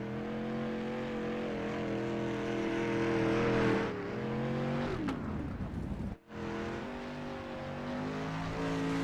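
A dirt street stock race car in iRacing at Kokomo Speedway roars close by, its engine revving high and then dropping as it slows into a turn, before it cuts out sharply and climbs again under acceleration.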